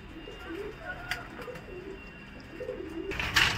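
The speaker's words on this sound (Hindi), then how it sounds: "इस लॉफ्ट में ये कबूतर है, काफी अच्छे कबूतर है" Pigeons in a loft give soft, low coos against steady background noise, and a brief louder rustle or flutter comes near the end.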